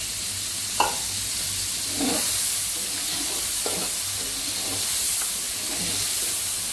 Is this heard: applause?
no